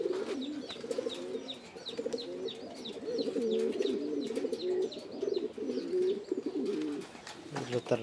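A female Afshan grizzle pigeon coos in repeated low rolling phrases close by, with higher chirps from other birds and someone talking briefly near the end.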